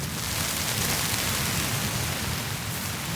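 Dense, steady hiss of hail and heavy rain drumming on a hot tent during a winter thunderstorm, a continuous loud wash with no breaks and no talk.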